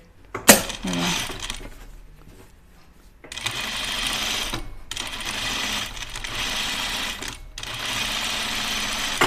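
A home sewing machine runs in long steady bursts while understitching dress pockets, a fast whirring buzz stopping and starting a few times, close and clear, with a sharp click at the start.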